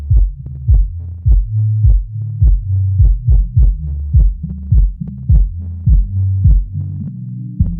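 The soloed bass part of a song mix plays a throbbing, rhythmic low line of repeated plucked notes, steady and fairly loud, with no voices.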